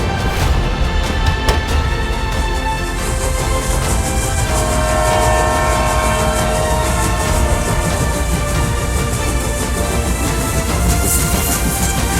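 Train ride on a long journey through Russia to China, a loud continuous rumble and clatter of rail travel with a steady roar throughout.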